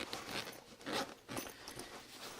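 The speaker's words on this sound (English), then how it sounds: "And it zips further down." The main compartment zipper on a Greenroom136 Rainmaker backpack is pulled open in quiet, continuous soft rasping strokes with brief pauses, fairly faint and heard without talk.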